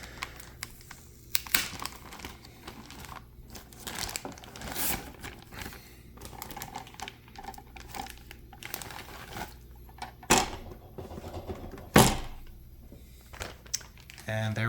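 Crinkly plastic accessory bags from an MSI MAG Z790 Tomahawk WIFI motherboard box being opened carefully by hand, with irregular close crackles and rustles and a few sharper crinkles, under light talking.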